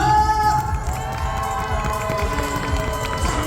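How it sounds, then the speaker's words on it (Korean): At a Christmas event at Everland's Santa Village, a crowd claps and cheers continuously and loudly, a dense wash of applause with scattered shouts throughout. "큰 그 박수와 함성을 보내주세요"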